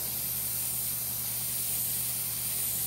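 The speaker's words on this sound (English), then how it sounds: "Spray some white on this thing." Airbrush spraying a light white base coat over black paint on a Harley-Davidson, a steady close hiss of compressed air and atomized paint running evenly throughout.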